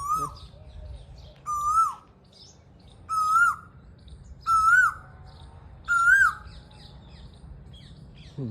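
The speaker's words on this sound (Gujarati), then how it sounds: "કોયલ બેઠી લીમડા ડાયે બેઠી કોયલ ટવકા કરે" An Asian koel calling from a neem tree in a village near Botad, giving five loud rising calls at steady intervals of about a second and a half against a quiet background.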